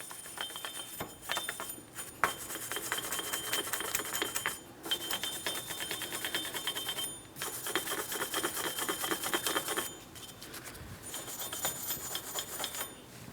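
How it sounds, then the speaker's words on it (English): A small wire brush scrubs steadily between the lug studs and hub of a 2004-2008 Pontiac Grand Prix front wheel, a close, rapid bristly scraping in bursts with brief pauses. "We'll also be using a small wire brush in between the lug studs and the hub."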